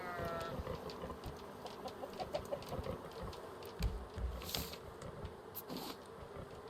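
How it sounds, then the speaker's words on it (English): Chickens in the survival game Raft cluck faintly and continuously over a low ambient bed, with scattered soft pecking-like ticks and no talk. "I'm thinking of bringing the chickens up here."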